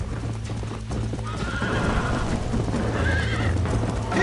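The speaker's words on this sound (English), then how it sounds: "I think you chose the wrong horse" A horse in the Red Dead video game gallops with quick, steady hoofbeats and lets out a whinny, loud and close, without speech.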